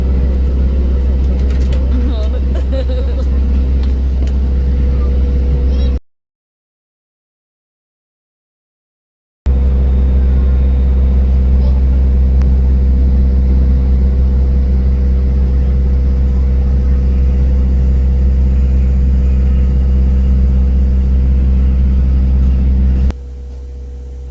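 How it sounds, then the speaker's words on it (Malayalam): Airport shuttle bus carrying passengers across the apron to a Sharjah–Trivandrum flight, a loud steady low engine drone with a brief cut, and faint voices inside. "അങ്ങനെ നമ്മുടെ ബസ് ഇത് ഇവിടെ എത്തിയിരിക്കുവാണ്"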